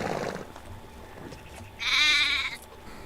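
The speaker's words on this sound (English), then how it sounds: "the sheep are friggin' loud when you're in the middle of them." Sheep in the video game Medieval Dynasty bleat loudly and close, one long wavering bleat standing out over a constant background of game ambience and distant animal sounds.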